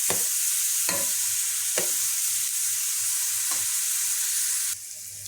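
Onion gently sautéing in a pan as the base for a zucchini and meat tagine, with a continuous soft sizzle broken by several sharp utensil scrapes and taps at a steady pace.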